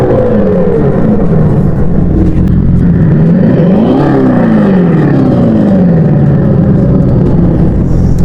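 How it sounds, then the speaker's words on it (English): Loud Hemi V8 exhaust note from a Dodge Charger, revving up and down in several sweeping pulls with a deep rumble, close and with no voices over it. "a true exhaust note, a Hemi exhaust note, V8 exhaust note, to a EV exhaust note, with motors, with electric motors"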